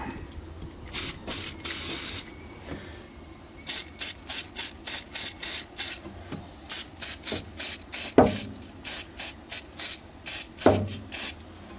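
Repeated short bursts of aerosol battery terminal protector hissing close by onto a cranking battery, rapid rhythmic pumps with brief pauses, and a few faint clicks of handling.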